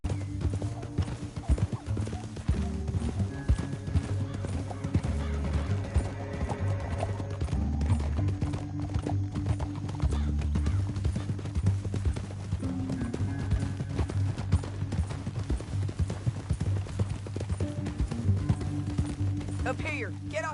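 Horses gallop in Red Dead Redemption 2 with rapid continuous clip-clop hoofbeats over a low steady rumble, close and constant throughout, with brief game dialogue over them.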